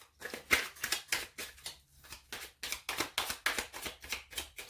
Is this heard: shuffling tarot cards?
yes